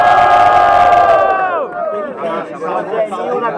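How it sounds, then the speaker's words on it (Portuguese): A rap battle crowd roars loudly, cheering and shouting together in a sustained burst, then breaks into scattered yells and chatter as the noise settles. "quem gostou das rimas do Kilu e do Yang, faz muito barulho"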